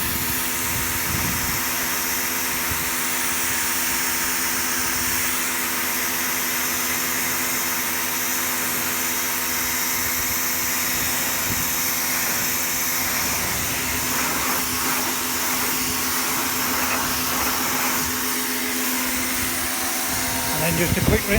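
A powerful water jet rinses a flagstone path beside a koi pond, producing a loud, unbroken hissing spray for the whole stretch, with a voice speaking now and then.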